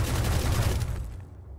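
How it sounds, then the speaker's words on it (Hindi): Gunfire in the Valorant video game, a short rapid burst of automatic shots that thuds heavily, then cuts off quickly and fades. "मेरी गन भाई हवा में गोलियां चलाएगा क्या।"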